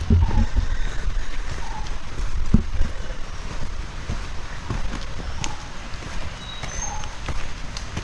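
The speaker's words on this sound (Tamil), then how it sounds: "சிற்றருவியில் வர சவுண்டு தான் கேட்கும் உங்களுக்கு" A small waterfall near Shenbagadevi Falls in Tenkasi rushes steadily in dense forest, with a broad, continuous water roar. Wind buffets the microphone and faint footsteps or knocks sound close by.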